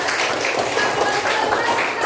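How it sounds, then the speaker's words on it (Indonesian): Participants in a teacher-training session on coding and artificial intelligence clap their hands together in a loud, dense burst of applause lasting a couple of seconds. "Beri tepuk tangan buat kita semua"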